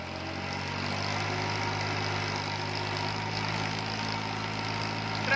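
A New Holland 4x4 tractor engine runs steadily near the microphone, a continuous droning hum with even low harmonics as the revs build, with no voices.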